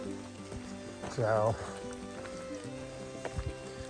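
Rain falling steadily on a hiker on the Appalachian Trail, a soft, even patter and hiss heard close by at low level, with someone speaking briefly over it.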